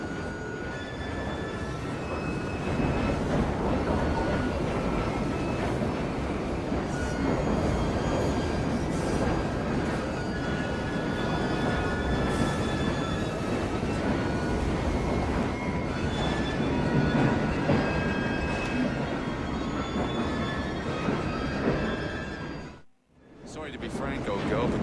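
A train runs in Assassin's Creed Syndicate with a steady, continuous rumbling roar lasting most of the clip and a brief drop near the end, while voices talk over it.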